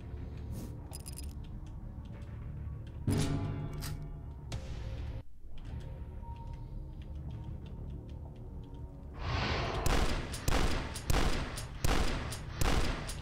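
A super shotgun fires repeatedly in the first-person shooter Dusk, several sharp booming blasts with reload clicks between, spaced at first and then coming in a rapid cluster toward the end, loud and close with no talk.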